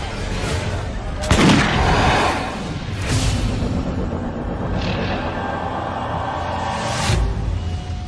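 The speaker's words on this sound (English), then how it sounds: "Europeans pick up on the idea, embracing and perfecting gunpowder weapons." Historical gunpowder weapons firing in a battle scene, with booming shots and crackling bursts over a continuous rumble, loud and dense.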